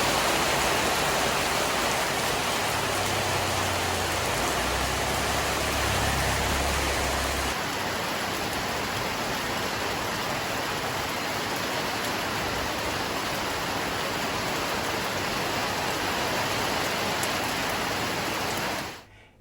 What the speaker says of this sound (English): it started to rain. And I don't mean a little bit.